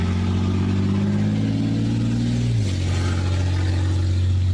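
A 2005 Lincoln LS with no muffler and a faulty exhaust runs loud and steady, its deep engine drone holding throughout, shifting pitch once partway as the revs drop to a lower rumble.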